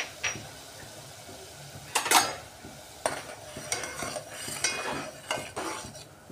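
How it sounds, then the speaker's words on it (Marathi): A spoon stirs a pot of water with a spoonful of ghee and salt, giving close scraping swishes and several sharp metallic clinks against the pot's sides in an uneven rhythm, with no talking. "छान मिक्स करून घेणार आहे आपण हे."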